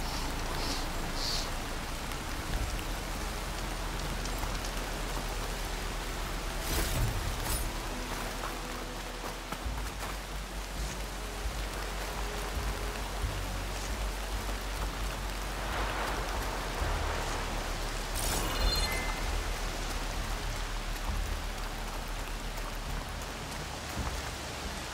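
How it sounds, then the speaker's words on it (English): Steady rain falls in Horizon Forbidden West, a dense, continuous hiss of drops on surfaces with a low rumble beneath and a few brief sharper splashes, moderately loud and without speech. "Rain's drowning out other sounds."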